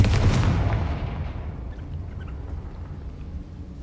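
A Confringo fire spell blast in Hogwarts Legacy erupts as one loud, close boom that rolls off into a fading low rumble lasting a few seconds, with no talk over it.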